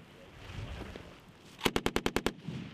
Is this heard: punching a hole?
no